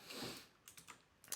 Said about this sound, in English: sorry for the loud typing that goes on here.